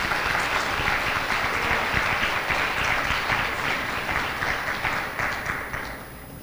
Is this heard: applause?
yes